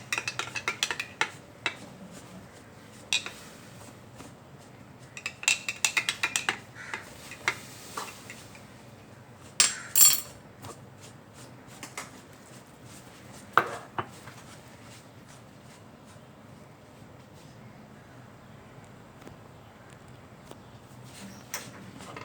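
Yeast being mixed into doughnut dough with eggs and sugar in a bowl brings quiet, irregular spoon clinks and clatters against the bowl, separated by soft, faint stirring in between.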